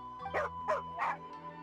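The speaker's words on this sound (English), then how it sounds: "Here, doggy. Good doggy." A dog in the video game Thoma Hangout Story gives three close, yelping barks in quick succession, then trails off into a faint whimper over a low steady hum.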